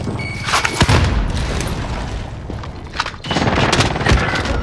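A Semtex grenade blast in a first-person shooter lands amid rapid gunfire, with sharp heavy bursts early and again near the end, loud and close.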